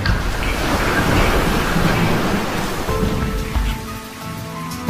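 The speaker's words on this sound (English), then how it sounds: "Outside, the storm raged" Heavy storm rain pours in a dense, steady roar with a low rumbling undertone, loud and continuous throughout, easing slightly toward the end.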